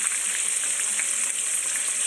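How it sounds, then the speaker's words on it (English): Close, steady hissing and crackling of chicken coated in pork rind crumbs deep frying in 350-degree oil, a continuous sizzle with no voices. "we've started to crisp up the skin, it's definitely frying"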